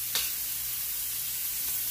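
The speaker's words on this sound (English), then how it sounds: "I am just about done tossing these veggies" Peppers, onion and celery sizzle steadily in a pan as they are tossed, a soft, even frying hiss with no talking.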